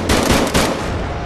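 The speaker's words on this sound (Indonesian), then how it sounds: "Mereka pun langsung menembak Moses hingga mati." Rapid bursts of gunfire from a film's soundtrack, a loud, dense volley of shots lasting about a second with no voices over it.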